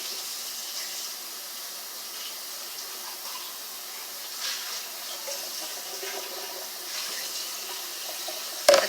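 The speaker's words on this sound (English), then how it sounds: "I have the water running in the background." Kitchen tap runs water into the sink in a continuous, moderately quiet hiss and splash, steady throughout with a brief clatter right at the end.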